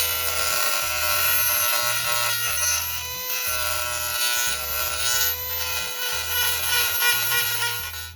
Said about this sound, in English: Now I'm going to go back with my Dremel and grind it out a little bit more and smooth it all out.